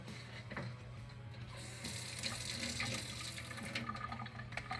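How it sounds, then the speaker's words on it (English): Water runs from a tap into a sink in a jewelry-making workspace, a steady faint hiss and splash continuing throughout with no one speaking. "So you heard me use the sink"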